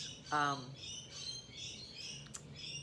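Birds chirping: short, bright tweets and calls recur throughout, moderately close, with one louder harmonic squawk early on and a brief sharp chirp near the end.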